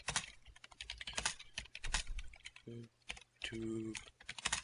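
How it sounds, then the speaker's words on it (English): Quick bursts of clicking computer keyboard keys while typing into Minecraft chat, soft and close, interleaved with someone talking and short electronic tones. "If I type in the chat real quick"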